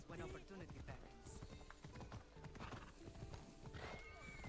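Horse hooves clip-clop at a gallop with a whinny, in the Assassin's Creed Odyssey video game, steady and close amid game music and effects, with faint talk beneath.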